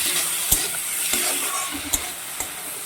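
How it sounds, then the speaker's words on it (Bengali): Spices and a spoonful of tomato sauce for chili fish sizzle in a pan, with a steady fry hiss broken by several sharp scrapes and knocks of a stirring spoon. "টমেটো সস দিয়ে দিচ্ছি অল্প এক চামচের মতো দিয়ে জিনিসগুলো ভালো করে নেড়ে করে নেব"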